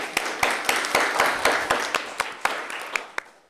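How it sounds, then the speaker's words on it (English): Applause at a school district board meeting for students who spoke, a small group clapping in a steady, fairly regular rhythm of sharp claps, moderately close, tapering off toward the end. "I would like to give an applause to all the students who came up speaking about facilities and cyber safety"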